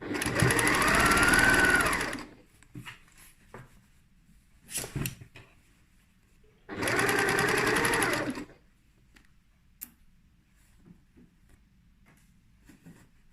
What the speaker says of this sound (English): I've just done a little back stitch across there.